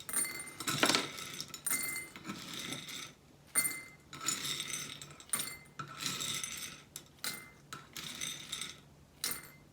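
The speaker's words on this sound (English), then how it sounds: "So, we're gonna start with the knife." Third-grade students cut with knives during a life science lesson, producing scattered bursts of clinking, scraping and clattering utensil sounds in a quiet classroom.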